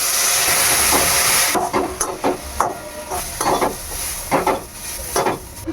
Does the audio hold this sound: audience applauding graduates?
no